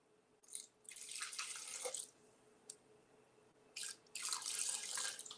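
Liquid for homemade flourless gravy pours in two steady splashing bursts, each lasting about a second or more, close and fairly loud, separated by quieter gaps with a faint drip.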